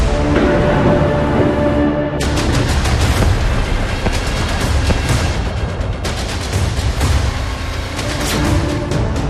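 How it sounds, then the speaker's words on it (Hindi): Explosions during a Russian attack on Kyiv, Ukraine, loud continuous blasts and rumbling booms with sharp bursts recurring throughout, dense and unbroken, with no speech. "एक के बाद एक धमाकों से दहल उठी है यूक्रेन की राजधानी कीव।"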